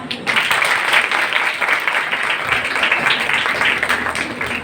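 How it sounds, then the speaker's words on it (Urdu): An audience at an oath-taking ceremony at a government women's college in New Karachi claps in sustained, dense applause that starts abruptly and carries on evenly to the end. "بہت ساری تالیاں"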